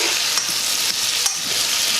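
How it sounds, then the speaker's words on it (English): Saltfish with pepper, celery and thyme frying in a pan, a loud, continuous sizzle with a few scraping stirs, close and without talk. "Make that fry up now because you want it to get a little tender."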